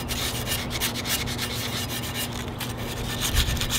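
Continuous rasping scrape of sanding a glazed ceramic bonsai pot, strokes rubbing back and forth at a steady pace, close up and moderately loud, with no talking.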